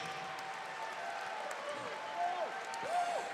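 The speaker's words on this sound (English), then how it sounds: "please put a big round of applause together for both of the fighters" A crowd claps and cheers steadily at a distance while an announcer's voice carries over the noise, after a mixed martial arts fight in a cage.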